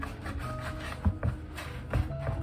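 Knife sawing through a loaf of stale bread, sliced at uneven thicknesses, giving dry rasping strokes with a few louder crunchy cuts, close and moderately quiet with no talking.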